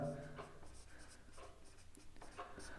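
A pen scratches across paper in short strokes while working out a maths solution, faint and close, with a background hum and no clear talk.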